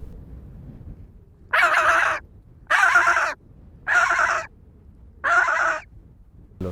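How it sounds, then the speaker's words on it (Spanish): Skuas calling in Antarctica, four loud harsh squawking bursts in an even rhythm, each lasting about half a second, close by over a low wind rumble. "El escuchar el sonido de las skuas."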